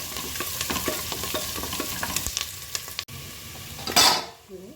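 Onions and tomatoes sautéing in a pan for biryani, a steady close sizzle with repeated stirring scrapes and clinks, ending in a louder burst of frying hiss.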